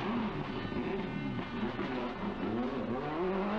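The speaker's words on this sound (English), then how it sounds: "The Impreza with its flat four engine." A Subaru Impreza rally car with a flat-four engine accelerates away on a narrow stage at the 1998 Boucles de Spa, a loud, steady rising engine note with gear-change sweeps, heard alone without talk.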